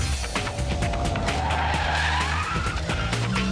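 A brand-new Mini Cooper S with a 1.6-litre supercharged 163 bhp engine pushes hard around a race track, its tyres skidding and squealing over a loud, steady engine drone throughout.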